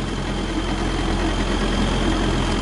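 The diesel engine of a small Vietnamese anchovy fishing boat labors heavily against the current at sea, a loud, steady, low rumbling drone with a faint knocking texture and no voices.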